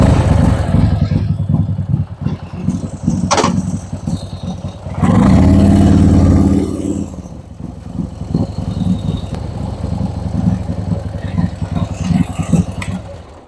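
Harley-Davidson motorcycle engine rumbling low and steady while being parked uphill, swelling into a loud, throaty rev for a couple of seconds midway before settling back to a chugging idle.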